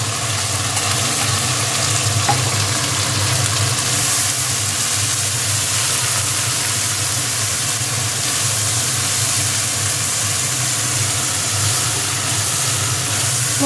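Ground spice paste frying in oil with already-fried tomato for a fish curry, a steady broad hiss and sizzle running unbroken and fairly loud throughout, with no talk.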